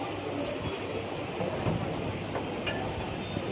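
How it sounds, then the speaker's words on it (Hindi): Inside a moving Mumbai local train, a steady broadband rush and rattle of the carriage runs continuously at moderate level with faint clacks, no clear speech. "लोकल ट्रेन में बैठ चुके हैं।"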